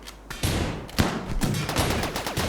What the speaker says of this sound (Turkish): Buradan şu anda çatışıyorlar abi.